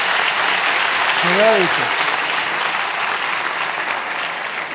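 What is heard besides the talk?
audience applause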